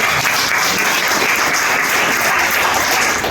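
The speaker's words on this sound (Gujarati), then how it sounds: "પહેલા તો આપણે એમના માટે જોરદાર તાળીઓ પાડીએ" Hospital staff at a children's hospital in Baroda applauded by an audience, dense sustained clapping from a sizable crowd, loud and steady throughout without pause.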